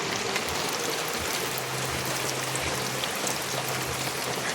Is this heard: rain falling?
yes